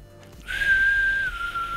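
A single sustained whistled note that slides slightly downward, clear and close, lasting just over a second.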